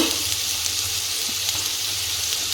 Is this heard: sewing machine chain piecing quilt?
no